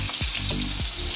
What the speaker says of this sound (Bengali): এই যে তেল বসিয়ে দিয়েছি, জিরে দিয়ে, এই যে পেঁয়াজটা দিয়ে দেবো